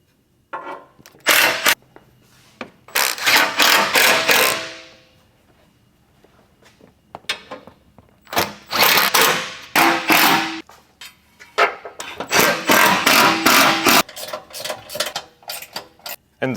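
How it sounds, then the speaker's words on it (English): A ratchet tightens bolts joining the sections of an AWD engine and transmission skid plate, with bursts of rapid clicking that come in several runs separated by short pauses, loud and close. "you can go ahead and tighten all 3 sections together"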